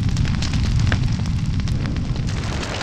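Fireball spell explosions in the video game Gothic, a loud continuous roaring blast with deep rumbling booms and crackling fire that holds steady before easing slightly toward the end.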